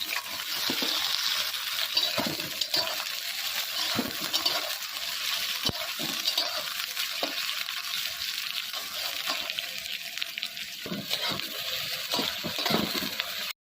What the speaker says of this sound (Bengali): ওই তেলেই পেঁয়াজ দিয়ে দিলাম